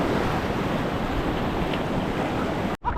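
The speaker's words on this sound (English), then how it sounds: "I do like this little rapid here." Rushing whitewater of a small river rapid on the French Broad River while kayaking, a steady, loud broadband roar close by that cuts off abruptly near the end.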